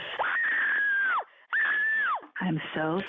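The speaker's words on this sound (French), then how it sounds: "Bienvenue sur la messagerie du cri primal du New York Times." Primal scream recorded on a New York Times voicemail line: two long, loud sustained screams, each about a second, then a shorter strained wail breaking into a voice, all close on a phone line.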